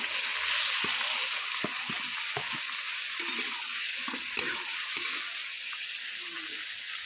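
Onions and a whole tomato sizzle steadily in a pan for a mutton and potato curry, a continuous close frying hiss broken by several soft stirring scrapes.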